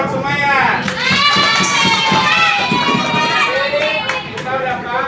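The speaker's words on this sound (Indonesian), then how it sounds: "Nah, tepuk tangan buat semuanya." Children in an Indonesian primary school classroom clap and cheer for their classmates, with lively shouting and chatter over steady clapping throughout, close and loud.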